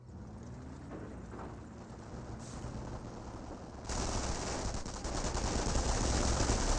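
MP40 submachine gun fire in a Company of Heroes battle, dense rapid bursts of distant gunfire growing louder and more continuous toward the end, layered over battlefield ambience with no speech.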